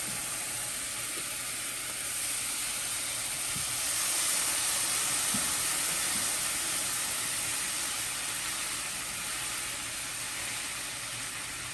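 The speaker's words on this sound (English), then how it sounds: "Your next step is to slowly add in your either beef broth or chicken broth, whatever you're using." Beef or chicken broth poured slowly into a hot pan for homemade hamburger skillet pasta, giving a steady, even hiss and sizzle that swells slightly midway and carries on without talk.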